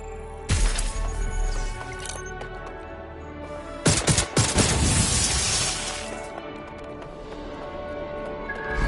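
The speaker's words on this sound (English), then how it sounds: "Shots." Gunfire rings out in the video game Watch Dogs Legion, a sharp burst of shots early on and a heavier cluster of loud blasts midway over a steady game background.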